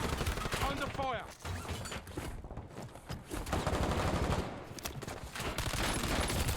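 Rapid automatic LC-10 gunfire in a Warzone video game match, dense bursts of shots crackling across nearly the whole stretch, loud and close, with a brief lull partway through.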